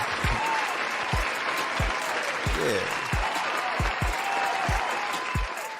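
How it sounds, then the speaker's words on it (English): Audience applause during a hair replacement demonstration, a steady crowd clapping bed with loud periodic low thumps and a brief spoken word over it. "Let's get a round of applause for you all"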